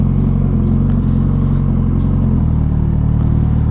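An FKM Venture Ultimate+ adventure scooter riding on a road, its engine droning steadily and loudly with a low hum and a slight pitch drop partway through, with no talking over it.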